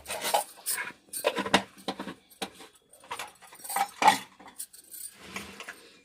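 A dry masala akki rotti mixture of rice flour and cumin powder is stirred in a bowl: repeated close, scraping and rattling strokes in uneven bursts with short pauses between them.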